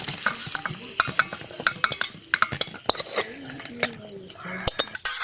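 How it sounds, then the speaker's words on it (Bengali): Chicken being lifted out of a sizzling pan at an outdoor winter village picnic, with steady frying hiss, scraping and clinking of a metal utensil against the pan, and voices nearby. "চিকেন হয়ে গেছে, চিকেনকে এবার এখানে তুলে নেবো।"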